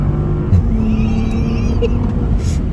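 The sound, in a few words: Bentley GT Convertible accelerating hard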